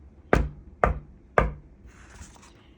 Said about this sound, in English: No sooner was he in the door when knock, knock, knock.